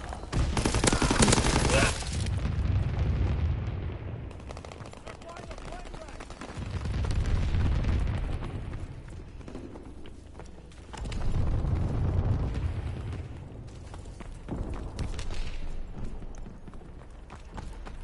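Enemy artillery explosions in a multiplayer shooter video game land in loud, rumbling waves, several heavy bursts roughly every few seconds with crackling gunfire between them and no speech over them.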